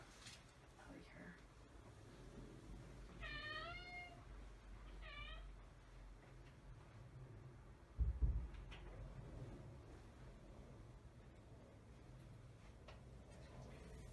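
A house cat lets out two short meows in quick succession at moderate distance in a quiet room, while a person talks nearby.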